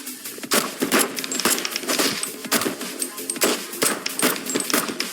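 Rapid bursts of game gunfire crack in quick clusters, separated by short metallic clicks and clatter of reloading, with no voices.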